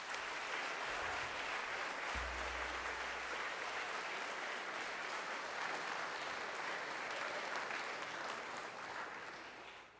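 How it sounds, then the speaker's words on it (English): An audience in a school chapel at Shawnigan Lake School gives a sustained round of applause, steady dense clapping that fills the room before tapering off at the very end. "let's give her a round of applause"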